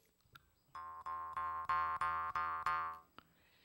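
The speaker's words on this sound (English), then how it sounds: "you twang this little piece in the middle here called a tongue" A jaw harp twangs in a steady series of about eight pulsing, buzzy notes, close and fairly loud, ending with a short breathy sound.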